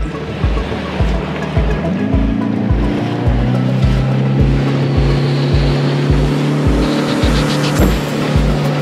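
Motorboat engines drone steadily past a fishing pier by the sea, a continuous loud hum with a rhythmic thumping pulse and shifting pitch as the boats go by, waves and water noise underneath, no talking.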